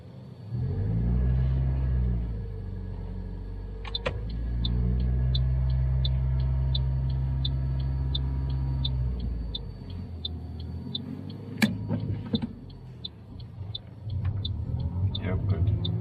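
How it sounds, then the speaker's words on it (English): Manual car engine revving and rumbling while driving a three-point turn, the low engine note rising and falling in long surges, with a ticking indicator and light talk from people inside. "You hear the car revving up, stop, accelerate, and change."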